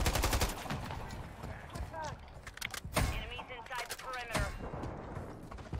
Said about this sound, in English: I'm pulling out the LMG